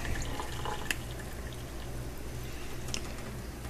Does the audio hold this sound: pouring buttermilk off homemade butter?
yes